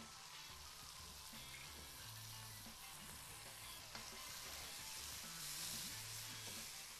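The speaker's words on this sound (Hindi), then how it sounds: "आप इसको अच्छी तरह स्टर फ्राई कर लीजिए" Chicken, cabbage and carrots stir-fry in a hot pan with a dense, continuous sizzle, close by, while spatula stirs and scrapes come and go beneath it.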